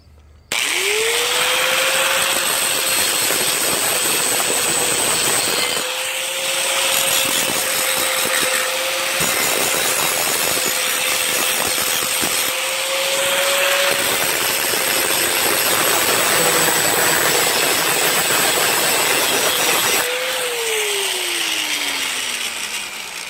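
A power tool grinding down a car motor mount, heard as a loud, continuous, high whine that holds steady with slight dips for over twenty seconds, then winds down at the end. No one talks over it.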